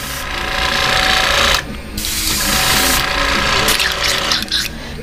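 An airbrush blows air to clear paint off a fishing lure being painted as a threadfin shad. It gives loud, close bursts of hissing air separated by short pauses.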